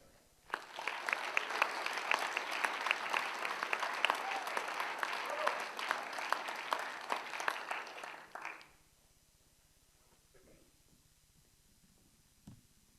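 An audience at a spring service and leadership celebration applauds to welcome a speaker, a moderately loud burst of clapping lasting about eight seconds before cutting to near silence.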